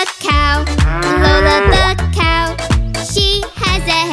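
A cartoon cow in a children's nursery rhyme lets out a long, loud, close moo that swells and repeats over a bouncy musical backing, likely a voice performing the animal sound.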